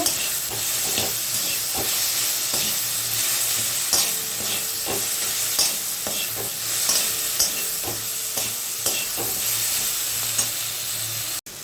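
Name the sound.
jujube chutney frying and being stirred with turmeric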